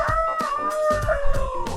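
A rooster crows on an urban farm in Compton, California, one loud, close, drawn-out call with a wavering pitch that lasts nearly two seconds.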